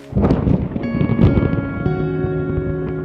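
A thunderstorm over the Amazon rainforest sends a deep rumble of thunder with rain and wind at the start, then continues as a softer, steady wash under sustained tonal sounds.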